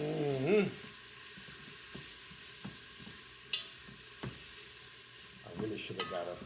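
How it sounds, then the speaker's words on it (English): Onions sautéing in a soup pot, a soft sizzle under occasional scrapes and knocks of stirring against the pot, fairly quiet and close, with a brief voice at the start. "We're gonna saute these onions down."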